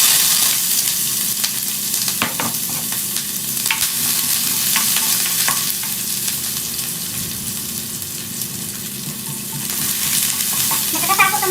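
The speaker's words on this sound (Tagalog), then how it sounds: "Yung onion at garlic guys, isahin ko na siya sa paggisa." Onion and garlic sautéing in hot oil, a continuous close sizzle and crackle with occasional stirring scrapes, steady and fairly loud with no voices over it.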